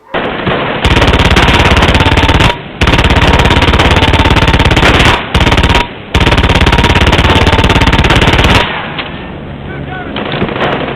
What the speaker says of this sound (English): This is your first chance to use one of their nifty MG-42 machine guns.